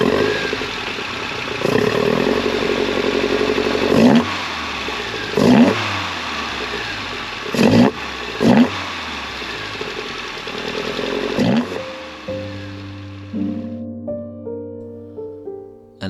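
A 1975 Alfa Romeo GT Junior Bertone with new camshafts and GTA curved ram pipes revs hard in repeated loud bursts, settling back toward a throbbing idle between blips, close and alone with no talk.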